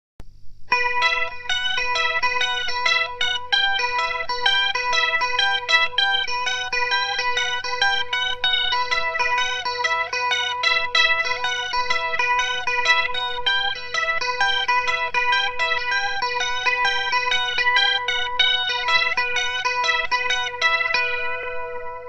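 Picky, tricky electric guitar riff modeled on a song, played through a flanger for a swirling, sweeping shimmer, a continuous run of quick clean arpeggiated notes lasting over twenty seconds with no voices.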